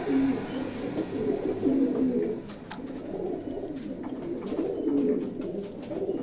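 Several rat checker pigeons in a loft coo together in low, rolling, overlapping murmurs that run continuously at close range.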